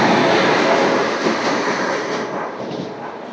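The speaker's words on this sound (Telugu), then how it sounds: "ఏ ట్రైన్ ఇది?" A train rolls past on the outer line near Visakhapatnam: a loud, dense, continuous rumble and rush that slowly eases in volume across the pass, with no voices.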